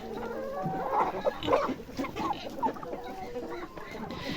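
Chickens and young roosters cluck in a village yard, a close, busy mix of overlapping clucks and short calls over steady outdoor background noise.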